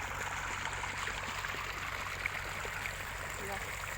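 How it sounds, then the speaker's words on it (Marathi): Borewell water runs along furrows in a freshly sown maize field, a constant low gurgling flow with a steady rushing wash that never rises or falls. "सरीने पाणी देण्याचं काम चालू आहे बघू शकता हे बोरचेच पाणी आहे बोरचे पाणी चालू आहे"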